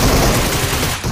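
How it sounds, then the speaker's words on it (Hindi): Loud, dense gunfire fills a shooter video game match in a brief, continuous close-range burst of rapid shots, with no speech over it. "तो मैंने प्री फायर"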